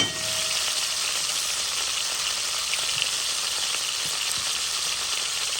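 A swordfish steak sizzles and spits in a hot pan as it is turned over, a steady close frying hiss that continues throughout with no talk.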